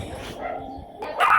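Dogs bark in short bursts outdoors, a sharp yelp rising near the end over low rumbling background noise.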